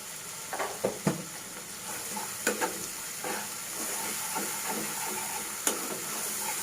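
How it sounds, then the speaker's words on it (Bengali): Ground spice paste sautés in oil in a pan for a country chicken curry, a constant close sizzle and hiss broken by several scraping stirs early on and one later, with no talk. "আমি 5-7 মিনিট মতো এবার কষিয়ে নেবো।"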